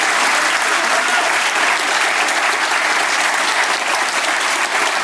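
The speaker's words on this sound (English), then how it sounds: "Almost bang on time there with the final round of applause." A studio audience claps loudly and continuously at the close of a live radio interview with a political leader, dense even applause filling the whole stretch with no talk over it.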